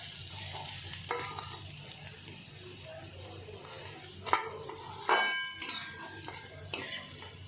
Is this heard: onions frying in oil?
yes